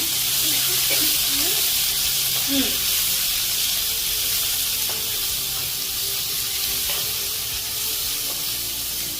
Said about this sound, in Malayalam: നമ്മള് ഇവിടെ മിക്സ് ചെയ്ത് വെച്ചിരിക്കുന്ന ഉള്ളി, വെളുത്തുള്ളി ചതച്ചത് ഇട്ട് കൊടുക്കുന്നു.